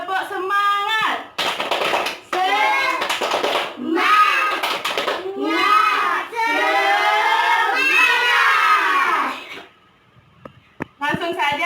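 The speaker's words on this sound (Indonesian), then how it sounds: "Tepuk semangat!" Fifth-grade schoolchildren in a classroom chant a lively rhythmic clapping cheer together, loud sung voices in bursts with sharp hand claps near the end.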